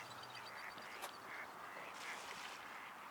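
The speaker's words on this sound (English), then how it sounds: "All the ducks are coming by." Ducks quacking in the distance on a cool spring day near water, faint repeated calls over a steady outdoor background hiss with no speech.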